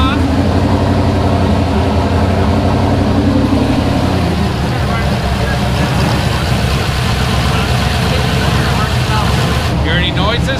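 Car engine running with a TH350 automatic transmission spinning during a check-up after reinstallation, a loud continuous low drone and whir that stays steady throughout, with no talking.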